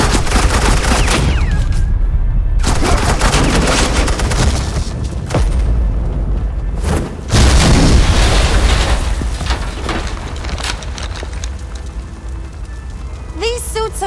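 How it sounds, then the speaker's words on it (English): Suppressing gunfire in a Batman video game, sustained bursts of loud automatic fire and booming impacts running through most of the stretch, with brief gaps, mixed with game voices talking. "suppressing fire"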